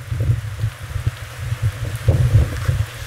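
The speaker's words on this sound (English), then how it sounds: "So the wind kicks up and adds oxygen to the fire." Wind gusting outdoors beside a roadside electric fire on Lucas Valley Road in Nicasio, a low rumbling buffet of gusts hitting the microphone, uneven and loud, with faint rustling and no speech.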